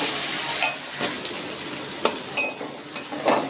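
Water lily flowers fry in a pan on a gas stove over low heat, a steady close sizzle broken by several light stirring scrapes and clinks of a utensil, with no talk.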